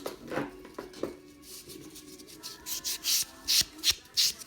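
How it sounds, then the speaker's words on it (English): A nail buffer smooths freshly filed nails as part of a builder gel manicure: quiet, close-up rubbing strokes in a rhythmic series that grow slightly louder and more distinct toward the end. "I will go in with a buffer"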